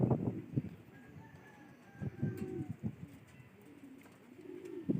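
Soft, low pigeon coos repeat in short rounded phrases, fairly close but quiet, against a faint outdoor background near a factory rooftop, with no talking.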